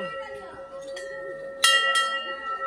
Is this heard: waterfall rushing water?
no